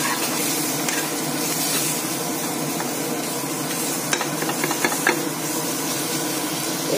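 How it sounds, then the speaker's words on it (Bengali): Ground cumin, chili powder and salt frying in a pan, a steady close sizzle and hiss with a few brief stirring clicks and scrapes near the end. "এটা দিয়ে মশলাটাকে একটু ভেজে নিয়ে যাবে।"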